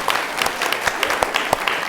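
Audience applause at a women-in-leadership talk, a quick burst of overlapping claps with a few sharper individual hand claps standing out, steady and moderately loud.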